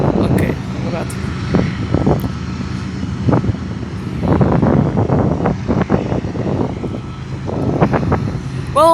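BNSF locomotives climbing Cajon Pass send out a steady, loud low rumble that swells and eases as they draw closer, with wind buffeting the microphone throughout.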